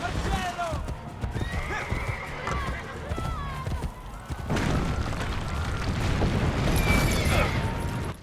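A horse neighs amid clattering hooves in Assassin's Creed Brotherhood during a chaotic siege, loud and close, with cannon booms and rumbling battle noise building behind it.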